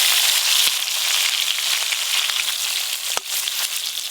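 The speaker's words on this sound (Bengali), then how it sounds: "চিতল মাছের ভর্তার জন্য এই যে দাগার মাছগুলো নিয়েছি, এইগুলো একবারে ভেজে নেব।" Pieces of chitol fish frying together in hot oil for a fish bhorta, a steady broadband sizzle with scattered crackles and one sharp pop near the end, close and continuous with no talking.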